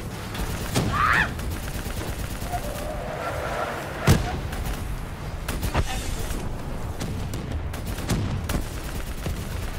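Black Ops 3 battle gunfire aimed at a VTOL aircraft, with bursts of fire, scattered sharp shots and a heavy thump near the middle over a constant rumbling backdrop.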